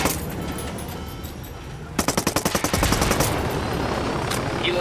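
In the video game Tom Clancy's Ghost Recon Wildlands, a steady Apache helicopter rotor drone, then a rapid burst of automatic gunfire with sharp evenly spaced shots, followed by continued loud rumbling and firing.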